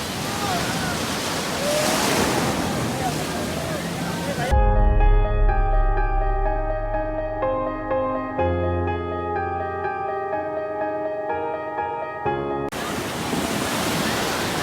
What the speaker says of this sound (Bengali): বড় ঢেউ